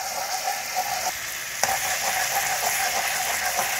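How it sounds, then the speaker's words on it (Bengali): Garlic frying in a pan for a bhindi (okra) dish with poppy seed and mustard, a steady close sizzle with a sharp utensil tap partway through, no voices. "রসুনটা ভাজা ভাজা হয়ে এসছে,"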